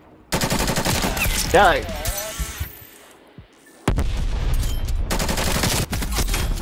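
Fast automatic fire from a LAPA submachine gun in Call of Duty, a loud close rattle in two long bursts split by a short lull, with someone shouting over the first burst.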